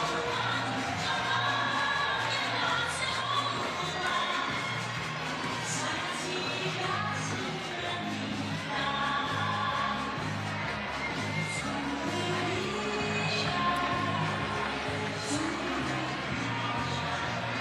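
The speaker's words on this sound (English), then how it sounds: "after all that cheering, all that clapping, she's now got to perform" Crowd at a lead climbing semi-final competition in Prague, a continuous wash of cheering and clapping from a large audience, steady and fairly loud throughout.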